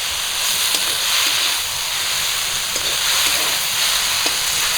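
Cumin, mustard paste and garlic paste sizzling in hot oil in a pan, a steady even hiss with faint crackles running throughout.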